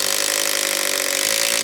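A power driver sends a 100mm screw at an angle through a timber batten during a garden room build, one loud steady whirring burst lasting under two seconds before stopping abruptly.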